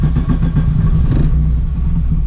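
A VW Golf 2 GTI 16V turbo engine running just after starting, a loud, close, steady low rumble of idle with a slight swell in the middle.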